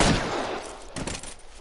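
A short burst of gunfire in L.A. Noire during a police shootout at 391 Broadway, a sharp loud opening shot followed by a few scattered cracks that trail off.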